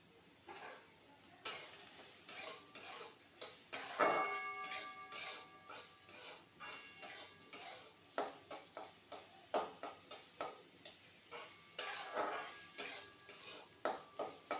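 Chopped onion and garlic stirred in hot oil while preparing veg momo filling: quiet, irregular clinks and scrapes of a utensil against the pan over a faint sizzle, steady through the clip with no speech.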